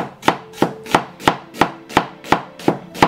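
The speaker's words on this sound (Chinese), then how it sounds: "洋葱切丝" A knife cuts an onion into strips on a cutting board, giving about ten evenly spaced, crisp chops close up, with nothing else heard.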